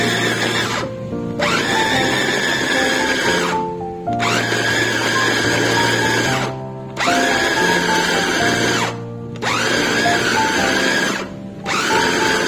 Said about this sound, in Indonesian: choppernya kita gunakan kembali untuk menggiling daging ya teman-teman